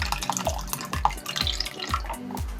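Eggs, buttermilk and oil pour into a bowl of cake batter, coming through as a wet, dripping trickle with a few soft splashes and glugs, near and steady throughout.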